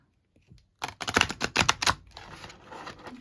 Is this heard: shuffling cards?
yes